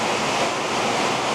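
Heavy pouring rain roars as a loud, dense, unbroken hiss, with no other sounds or voices.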